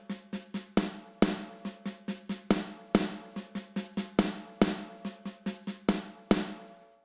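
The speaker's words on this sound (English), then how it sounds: "the traditional way to play a 6-stroke roll is to actually have two different rhythms, like a 16th note and a 32nd note" Snare drum playing a traditional six-stroke roll that mixes 16th and 32nd notes: crisp, close hits in a repeating uneven pattern, quick doubled strokes leading into louder accented hits about every second, with no talking.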